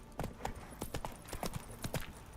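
Roach, a horse in the Witcher 3 video game, clip-clops along with quiet, steady hooves in an even walking rhythm that continues throughout.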